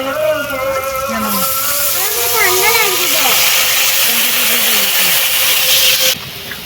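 Water poured into hot oil for a fish curry bursts into a loud, steady sizzling hiss that holds for several seconds close by, while people talk over it.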